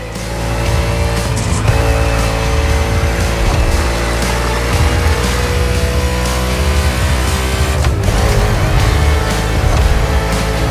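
NASCAR stock cars race in The Crew Motorfest, with a loud, continuous engine roar and revving close by, plus brief tire squeal and shifts in pitch as the cars accelerate and corner.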